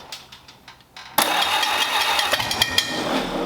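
An old flathead engine cranks briefly, then catches and fires into a loud, steady running roar with uneven popping pulses, close by.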